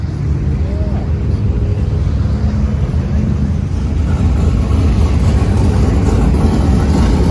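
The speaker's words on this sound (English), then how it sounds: "Let's get up and listen to some engines." Dirt track race car engines roaring at Eldora Speedway in Rossburg, Ohio, a steady loud rumble of several engines nearby, with some talk mixed in.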